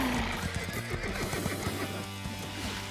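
Cartoon horses whinny in a few rising and falling neighs, with hooves clopping underneath over a busy scene, fairly close and clear, without talking.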